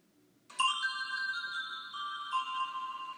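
A bright electronic chime rings out as the page-turn cue in a children's read-along book, Let's Make a Boat; a single sustained bell-like tone starts after a brief quiet moment and rings steadily to the end, clear and alone.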